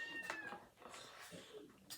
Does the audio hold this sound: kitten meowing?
yes